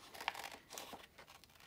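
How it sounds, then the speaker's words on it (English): Quiet, close snipping and crinkling of paper being cut with scissors, a few irregular cuts with soft rustles between them. "I'm going to use my scissors just to cut this out."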